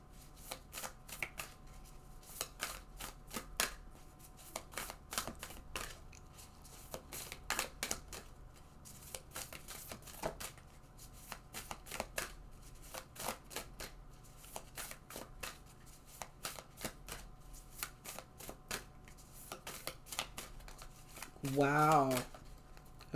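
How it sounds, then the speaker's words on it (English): Cards riffle and shuffle in quick, repeated bursts over a long stretch, fairly close, with a brief voice near the end. "when I was shuffling my cards and it was taking so long"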